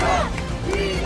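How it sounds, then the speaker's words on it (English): A crowd cheers and shouts in Upper Manhattan as former President Trump arrives at a bodega, a dense, loud, continuous roar of voices across the whole short burst. "Crowds gather in Upper Manhattan as former President Trump visits a bodega."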